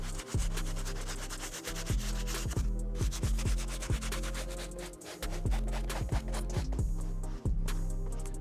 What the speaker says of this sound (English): I did just go ahead and hit it with 1 pass using our soft bristle brush